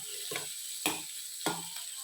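Onion and curry leaves sauté in a pan for an instant dosa, a quiet background sizzle broken by three short scraping stirs at a slow, even pace.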